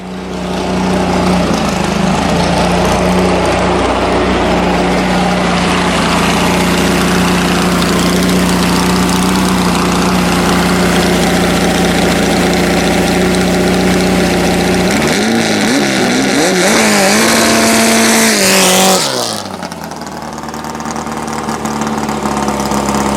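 An old VW Beetle hot rod engine, last driven in 1995, runs loud and close with a steady rough idle, then revs rise and fall in wavering bursts before cutting back to a quieter rumble.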